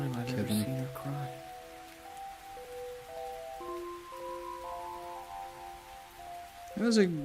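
Rain from the video game Xenosaga Episode 1 hisses softly as a steady wash beneath melodic game music with sustained tones, faint and continuous throughout.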